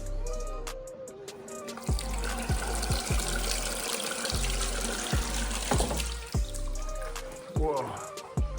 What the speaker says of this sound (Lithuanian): Dušas.